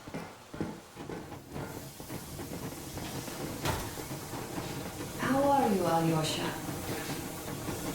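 A steam locomotive rolls along in the video game Metro Exodus, a steady rumbling, clattering rail noise with a few hollow knocks, while characters talk over it.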